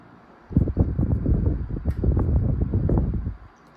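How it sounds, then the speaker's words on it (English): A Sanyo Dynamic Wide 12-inch oscillating electric fan from the late 1960s switches on and blows a close, steady, fluttering whoosh for about three seconds before it stops. "This is no slouch either for a 12-inch fan."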